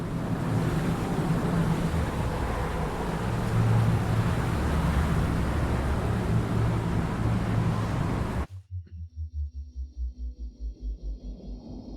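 Sailing ship at sea in a video game, with a broad roar of wind and surf for about eight seconds that cuts abruptly to quieter, rhythmic swells of low rumbling water.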